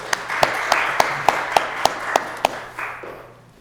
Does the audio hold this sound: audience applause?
yes